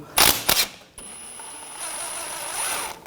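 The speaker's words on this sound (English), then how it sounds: "Using a 11mm socket, take the banjo bolt off." Quick ratchet clicks from an 11mm socket loosening a brake caliper banjo bolt on a 2015-2020 Cadillac Escalade, two short bursts close by, then a steady faint whine and hum.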